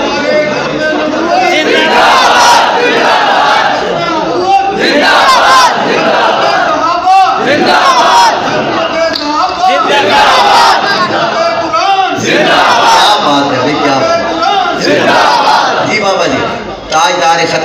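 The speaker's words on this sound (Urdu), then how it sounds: "اس نے 50 سال کے بعد جس طرح یہ بابا جی نعرہ لگایا نا" An elderly man leads a large crowd in chanting slogans, the mass of voices loud, close and sustained in repeated surging rhythmic bursts with little pause.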